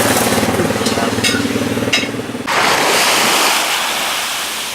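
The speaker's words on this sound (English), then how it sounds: "This is the beach at, I think it's called Sari Bay. Still on Koh Tao." Waves wash onto a beach at Sairee Bay on Koh Tao, Thailand, a loud, close surge of rushing surf that breaks and then hisses out as the water spreads up the sand.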